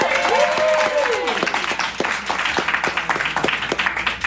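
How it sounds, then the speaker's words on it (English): A live storytelling game show audience at a theatre breaks into loud, dense applause, with a drawn-out whoop over the clapping at the start, then sustained close clapping with sharp individual claps. "Give them a big round of applause."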